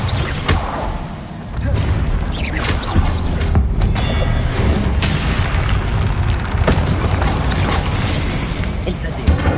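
The Incendio fire spell cast in Hogwarts Legacy on PS5 during a fight with enemies: loud whooshing bursts and booming impacts over a dense, continuous layer of game sound effects and mechanical clatter, with voices mixed in.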